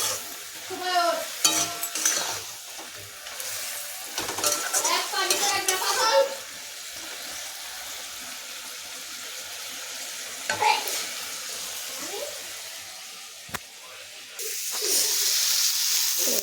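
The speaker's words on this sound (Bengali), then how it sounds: "থোর ভাজা হচ্ছে" Chopped banana flower fries in a pan, a steady sizzle broken by scraping stir strokes and clatter, loud and close, with a hissing surge near the end.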